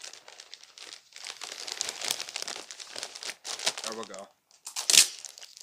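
Christmas wrapping paper is folded into triangles and crinkled close up, rustling and crumpling steadily with a sharp crunch near the end, while a person speaks briefly.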